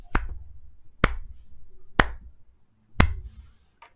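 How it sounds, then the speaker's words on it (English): Someone behind gives a slow clap, four sharp, evenly spaced claps about a second apart, close and fairly loud, with quiet gaps between them. "From behind you, you hear a slow clap."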